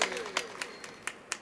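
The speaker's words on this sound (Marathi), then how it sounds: "यांच्यासाठी टाळ्या वाजवा एकदा" Audience at a devotional gathering claps in scattered, uneven bursts for the creator of a photograph of Lord Rama, the claps sparse and moderately close under an ongoing room murmur.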